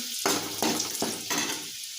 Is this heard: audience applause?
no